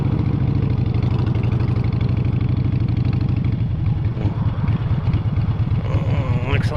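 A motorcycle engine idles nearby in a loud, steady, throbbing putter that stays even for several seconds, with a faint whine rising near the end.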